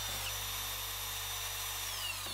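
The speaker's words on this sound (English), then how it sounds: "Good, ready to drill guide hole." An electric drill bores a guide hole while building a DIY sandblasting cabinet, giving a steady, close, continuous whine over a low hum for the whole stretch, with no talking.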